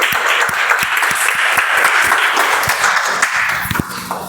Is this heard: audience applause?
yes